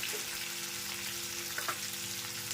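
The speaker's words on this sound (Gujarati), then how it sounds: "પછી મગ નાખી દેવાનું" Mung beans hit a hot pan and set off a steady, dense sizzle of frying. The noise holds constant and fairly loud all the way through, with a few faint stirring clinks and no speech.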